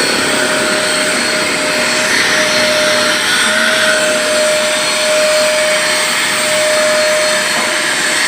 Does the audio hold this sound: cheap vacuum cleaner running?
yes